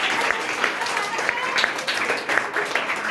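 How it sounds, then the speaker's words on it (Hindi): Applause at a school exam result announcement, a steady patter of clapping from a gathered group with speech heard over it. "जोरदार तालियां।"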